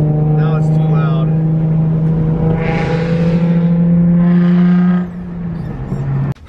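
Nissan 350Z idling loudly with a steady deep exhaust drone and engine hum, a brief rise in revs midway, before dropping off near the end.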